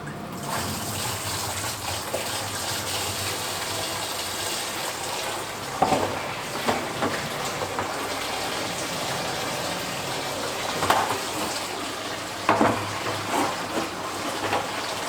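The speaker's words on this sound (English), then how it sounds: "I'll fill them with water from the tank" Water from an aquarium tank pours steadily into a barrel, a continuous rushing gush with a few faint knocks and splashes over about fifteen seconds.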